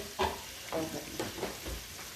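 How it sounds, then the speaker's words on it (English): A spoon stirs thick grits boiling in a pot in a home kitchen, giving several soft scraping, bubbling swishes at an irregular pace, close and moderately quiet with no talking. "So the grits they are boiling. And you're going to stir them"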